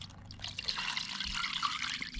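Zep cleaner poured into an ultrasonic cleaner's tank, a steady liquid pour and trickle running continuously at close range, with no talking.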